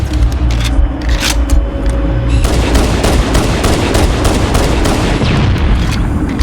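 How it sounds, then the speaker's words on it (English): Pistol fire aimed at a Banshee aircraft in the video game Halo: Combat Evolved, a rapid run of loud, close shots hammering almost without pause over a rumbling battle bed. "Let's destroy this Banshee with the pistol."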